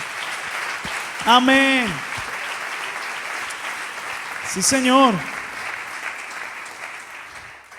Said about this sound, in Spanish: Den un aplauso al Señor, aleluya.